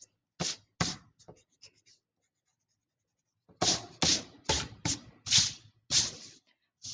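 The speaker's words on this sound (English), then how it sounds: "first I need to erase my lines that I have here, or finish erasing them" Quick bursts of an eraser rubbing pencil lines off watercolor paper for a stained glass painting, close and crisp, in two short clusters split by a silent gap.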